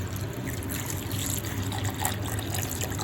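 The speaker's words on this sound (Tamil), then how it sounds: "அதோட வந்து கொஞ்சம் தண்ணி சேர்க்கிறேன்." Water is poured onto green chillies in a grinder jar before grinding, making a steady close splashing trickle that runs the whole time with no talk over it.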